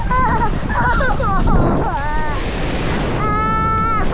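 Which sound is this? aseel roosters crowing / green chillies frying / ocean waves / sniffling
ocean waves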